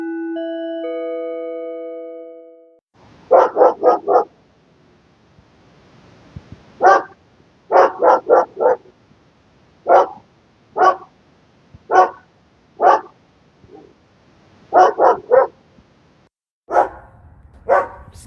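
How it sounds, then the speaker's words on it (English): A dog barks in repeated bursts of two to four barks, fairly close and loud, with short pauses between them; a steady tonal hum fills the opening seconds before the barking starts. "The dog barking is audible activity."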